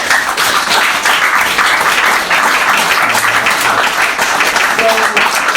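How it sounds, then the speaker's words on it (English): A congregation applauds at a Sunday service at the Peace & Purpose Centre in Bolton, with steady, dense clapping from many hands filling the whole stretch at full volume. "Let's give a round of applause."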